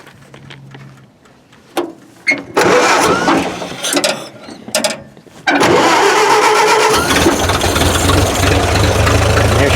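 An old vehicle pulled from a barn cranks in several short bursts, catches, and settles into a loud, steady idle close by.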